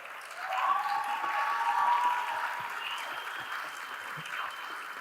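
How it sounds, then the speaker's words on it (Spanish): Applause from an audience at a Spanish-language talk greets Gloria Careaga. It is a sustained wash of clapping that swells early, stays steady for several seconds and then eases slightly, with no voices over it. "un aplauso grande a Gloria Careaga"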